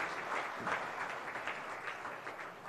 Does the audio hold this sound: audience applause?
yes